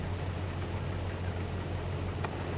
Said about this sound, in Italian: È un ticchettio cadenzato in base alla rotazione della lama.